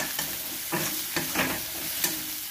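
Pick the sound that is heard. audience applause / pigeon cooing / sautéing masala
sautéing masala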